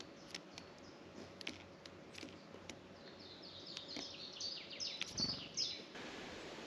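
Small birds chirp near nuts set out for them at a campsite in Douarnenez, France, with quick, faint tweets scattered over a soft outdoor hiss that thicken into a busier flurry midway.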